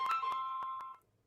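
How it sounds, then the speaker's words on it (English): Mobile phone ringtone sounding during a sports podcast, a bright electronic melody of about five quick repeated tones over roughly a second, then cutting off, fairly close and alone. "That was my phone ringing."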